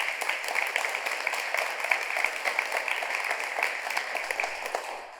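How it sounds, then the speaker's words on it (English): An audience claps steadily at a county commissioner candidate forum in a college venue, a dense, even round of applause that fades at the end. "Please give them a round of applause for being here."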